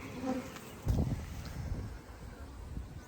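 Honey bees, many of them queens from Hawaii stock, buzz around hives at an apiary yard, a steady close hum with a louder swell near the start and wind brushing the microphone.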